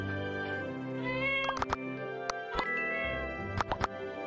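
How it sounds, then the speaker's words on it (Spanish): A cat meows in the video game My Time At Portia, with a few short meows amid faint game background sounds and several sharp clicks. "mira, aquí está el gato"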